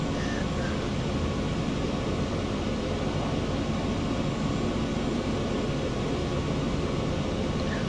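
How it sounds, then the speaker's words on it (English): Steady broadband roar of A320 turbine engines spooling in a flight simulator game, a constant dense whooshing hum that stays even in loudness throughout with no speech. "For some reason the turbines are still turning."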